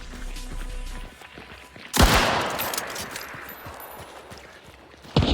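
Gunfire in a French-played shooter video game: a sudden loud burst of rapid shots crashes in, decays into a rattling tail, then another sharp blast hits at the very end.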